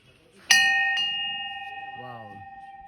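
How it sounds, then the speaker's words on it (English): Temple bell at Ma Kali Durga Mandir in Uttarakhand struck once, a bright metallic clang whose ringing tone sustains and slowly decays with a pulsing shimmer, followed by a brief voice over the fading hum. "someone just right- rung that bell, and it created that vibration, which was amazing"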